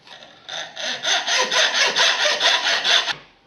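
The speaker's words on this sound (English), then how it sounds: "Now get your hacksaw and cut it at the desired length." A hacksaw cuts a screw for a wooden drawer handle down to length, about ten quick, even rasping strokes in a steady rhythm, close and loud with no talk.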